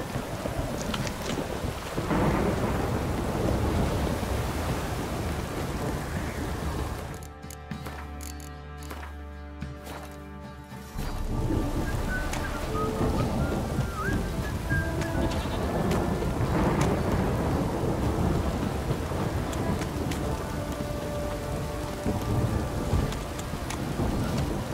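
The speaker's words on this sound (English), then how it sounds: "This downpour's a bastard" Video game thunderstorm in The Witcher 3: steady heavy rain pours throughout, with a rumbling roll of thunder in the middle and a few faint bleats mixed in.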